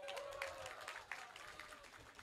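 Crowd applause at an Indonesian political event in Lampung, a continuous patter of many hands clapping with some cheering, heard faintly and at a distance.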